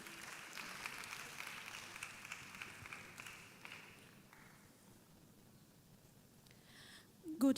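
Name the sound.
audience applause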